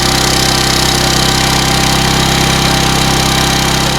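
A loud, steady engine running with its muffler fitted during an emissions demonstration, droning continuously with a dense low rumble and no pauses.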